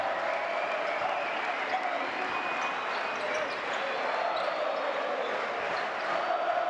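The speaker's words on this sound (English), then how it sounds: "The home crowd really getting into this now" A home crowd cheers at a FIBA World Cup 2023 qualifier basketball game between Argentina and Panama: a steady, loud roar of voices and applause fills the arena, with a commentator talking over it.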